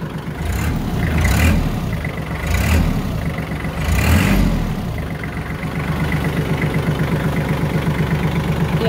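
A Kubota tractor's diesel engine idling in cold weather, a steady close rumble with a few swells of revving early on before settling into an even idle.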